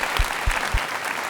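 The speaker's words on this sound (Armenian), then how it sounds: "Եկեք ծափարենք Օվսաննային եւ Անդրանիկին շատ բարձր ուղեկցենք։" A TV studio audience applauds in a dense burst of clapping, loud and close, with a few low thumps under the crowd.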